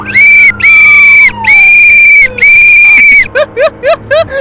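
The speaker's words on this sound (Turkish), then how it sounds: "Düdüğümü buldum" Shrill, loud whistle blasts from a police whistle in Euro Truck Simulator, several long sustained toots followed by a rapid series of short chirping blows, with a falling tone beneath.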